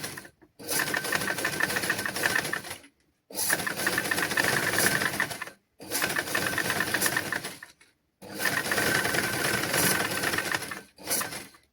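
A sewing machine stitching a straight seam in fabric during a tailoring lesson, running in four sustained bursts of rapid, even mechanical whirring, each a couple of seconds long, split by brief silent pauses, close and clear.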